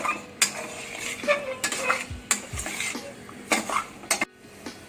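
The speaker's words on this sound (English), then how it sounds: "again fry it for around 2 to 3 minutes till the masala leaves the oil on a medium flame" A spatula stirs and scrapes a roasting spice mixture in a metal pan for spicy Maharashtrian Kolhapuri mutton on a medium flame, giving irregular close clinks and scrapes over a soft steady sizzle.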